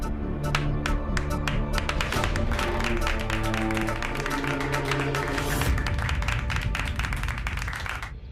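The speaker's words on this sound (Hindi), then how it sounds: "अरे ताली बजाओ, लौट कर आया है" A group of people claps to welcome someone back, with many close, rhythmic claps in a steady run over a sustained tonal backing.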